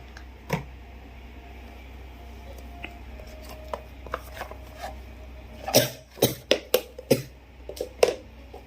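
A few short coughs close by, clustered near the end after a quiet stretch with faint background noise.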